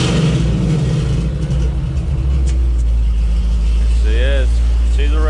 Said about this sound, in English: There it is, the LS3. Get a little rev video.